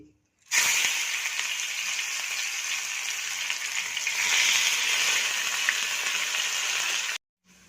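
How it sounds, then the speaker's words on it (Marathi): Washed mung dal sizzles in oil on an iron tawa with a steady, close crackling hiss that starts abruptly, holds for about seven seconds, swells slightly midway and then stops. "आता आपली मुगाची डाळ तव्यात घालून झाली की ती आलटून पलटून छान अशी क्रिस्पी करून घ्यायची"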